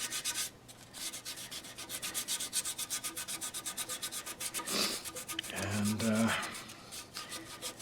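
Fine grit sandpaper rubs rhythmically over the surface of an Art Nouveau style pedestal planter, close and quiet repeated strokes, with a brief low voice partway through.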